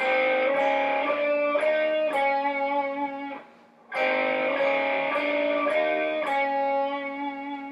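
A melodic electric guitar solo of clear sustained notes, played slowly and evenly, with a brief pause in the middle before the phrase repeats.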